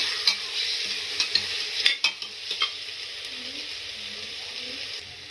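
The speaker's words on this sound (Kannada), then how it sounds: "ಮಿಕ್ಸ್ ಚನ್ನಾಗಿ ಫ್ರೈ ಆಗಲಿ ಮಸಾಲಾ ಸ್ವಲ್ಪ ಘಾಟ್ ಹೋಗುತ್ತೆ ನೋಡಿ ಸ್ವಲ್ಪ ಫ್ರೈ ಮಾಡ್ತೀನಿ" Masala fries and sizzles in a pan while a spoon stirs it, giving a steady bright hiss punctuated by several sharp scraping clicks early on, then settling into an even sizzle, close and fairly loud, no talking.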